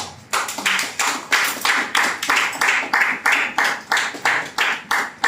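A church congregation claps in steady unison at a French Sunday service, roughly seventeen sharp, even beats with no talking over them.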